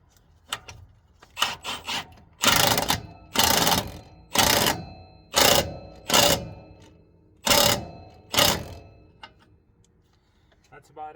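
A pneumatic impact gun works on shock-absorber mounting studs on the front steer axle of a Kenworth W900 truck, firing about nine loud, close hammering bursts in a stop-start rhythm, each lasting roughly half a second to a second.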